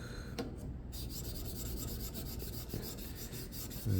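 Knife blade stroked across a sharpening stone on a TSPROF Pioneer fixed-angle sharpening system, a quick series of even, rhythmic rasping strokes, close and fairly quiet.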